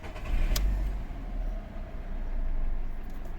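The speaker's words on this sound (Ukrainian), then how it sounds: "Зараз заведемо, подивимося, як працює двигун." A 2007 VW Polo Cross with a 1.6 MPI petrol engine cranks and catches, then settles into a steady low idle close by, with no talk.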